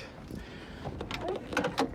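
A door on a VW T4 campervan conversion opening, a short run of faint clunks and latch clicks with a slight slide, fairly close, no talking.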